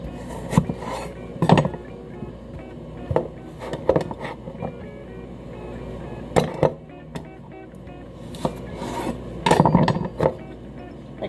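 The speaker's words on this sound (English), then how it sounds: "I cut those in spears and I'm just adding them to the jar" Cucumber spears cut for home canned pickles being pushed one by one into a glass canning jar, giving scattered close rubbing, scraping and knocking sounds with quiet gaps between them.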